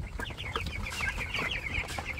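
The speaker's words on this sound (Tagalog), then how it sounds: "Nakakatuwa naman yung mga manok." Several chickens clucking close by, a continuous chatter of overlapping clucks and short calls over a low steady background hum.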